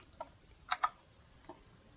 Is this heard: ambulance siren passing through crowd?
no